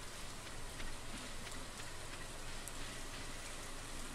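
Steady rain falls in the video game Stardew Valley, an even, continuous patter that holds at a soft level throughout with no voices.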